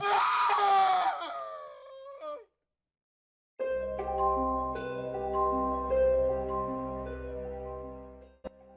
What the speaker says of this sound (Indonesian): jeritannya terdengar sepanjang malam